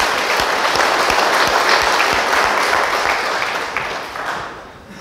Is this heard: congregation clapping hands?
yes